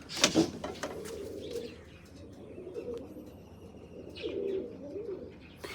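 A pigeon kept by a breeder coos softly in low, rolling phrases, close by and repeated several times, with faint chirps around it in a quiet setting.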